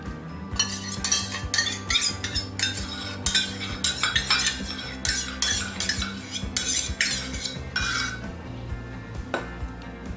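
A spoon clinks and scrapes against a bowl in quick, irregular strokes while yogurt and vinegar are mixed together, close and fairly loud, with no talking.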